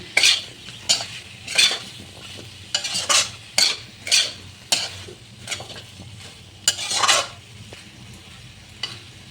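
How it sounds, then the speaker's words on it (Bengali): A shol fish curry is stirred and fried in a pan, giving repeated scraping strokes of a spatula roughly every half second over a low sizzle, close and fairly loud, with no talking. "এটা সুন্দর করে আমি নেড়ে চেড়ে একটু ভাজা ভাজা করে নিয়েছি"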